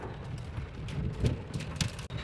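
Hail, rain and strong wind strike together near Dehradun, a dense patter of impacts and gusting noise with sharper individual hits standing out, steady and close throughout.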